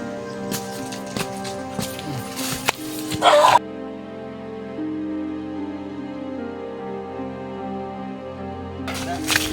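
A dog barks several times in quick succession, fairly close, followed by a quieter stretch of steady background noise and another burst at the end.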